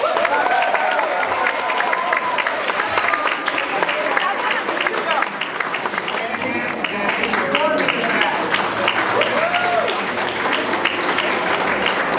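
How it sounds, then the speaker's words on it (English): An audience at a school spring concert claps and cheers for the 6th grade, a dense, sustained wave of applause that fills the hall, with voices mixed in among the crowd. "give a huge round of applause for their last spring concert, the 6th grade"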